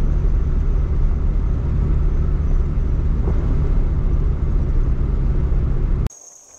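A car cruises steadily along a road at night while searching for snakes, its engine and tire rumble constant and close for about six seconds before cutting off abruptly.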